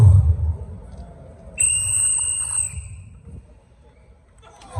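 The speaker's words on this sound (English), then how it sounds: "if you hear the sound of the whistle, you know what to do" A shrill whistle blast with a steady high pitch, held for about a second over a noisy crowd-like background.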